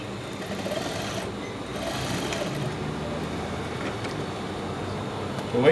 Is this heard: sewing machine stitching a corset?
yes